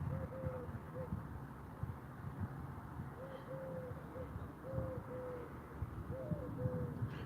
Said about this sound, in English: This is a real common area where pigeons would be, so that's probably legitimately a pigeon.